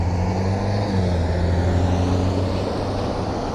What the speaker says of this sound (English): There's a lot of traffic coming my way.